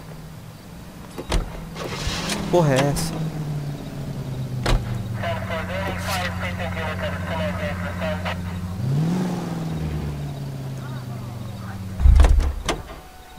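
Getting into a car and driving off in L.A. Noire: a door thud, then a steady engine drone that rises as the vehicle accelerates, with someone talking over it and another thump near the end.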